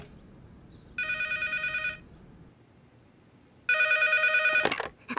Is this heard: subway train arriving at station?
no